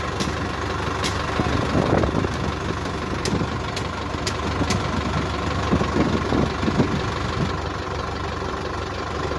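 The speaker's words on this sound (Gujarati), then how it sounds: "ત્યાં માટીના જે ઢગલા છે ને એ ભરવામાં અત્યારે ટ્રેક્ટરનું કામ ચાલુ છે." A tractor engine runs steadily at a roadside earthworks site under a bridge while it is loaded with soil from a heap, a continuous mid-low rumble with occasional knocks and clunks, with no talking.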